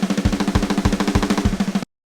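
Programmed snare drum roll for pop punk, rapid even strokes with a stiff machine-like rhythm and steadily rising hits, played alone, close and loud for about two seconds.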